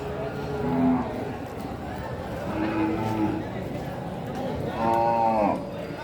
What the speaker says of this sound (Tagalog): Mga kalabaw yan. Bentahan ng kalabaw dito sa Garcia.